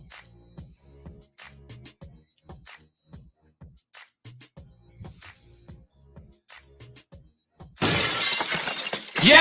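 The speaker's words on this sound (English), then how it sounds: "it is not Stone Cold Steve Austin that gets the glass break" Glass shatters suddenly and loudly after a stretch of quiet tapping and scattered small noises, the crash spreading into a dense, bright burst that builds toward the end.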